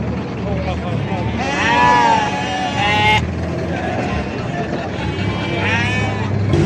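A flock of sheep and lambs at a livestock market bleats continuously, with wavering high and low cries overlapping against a steady outdoor rumble.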